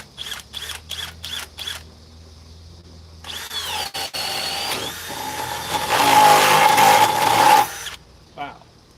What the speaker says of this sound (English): Harbor Freight Hercules 1200 inch-pound drill driver with 8 amp extreme performance battery.